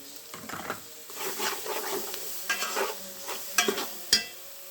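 A paste of ginger, garlic, cumin and dried chilli sizzles in a pan while being stirred, soft frying hiss under repeated scraping strokes of a spoon, with a few sharper clacks near the end, close and moderately quiet.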